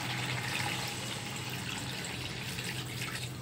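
Water poured into a pan of cooking meat makes a steady, fairly quiet rushing splash that runs unbroken throughout, with a faint bubbling hiss underneath.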